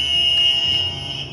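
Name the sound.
battery-operated game show buzzer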